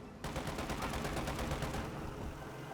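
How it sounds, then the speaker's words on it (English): A .50 cal machine gun in Company of Heroes 2 fires a long, steady burst of rapid shots, loud and continuous for over two seconds before easing off, with no talking. "we do have a 50 cal machine gun set up inside this other shack"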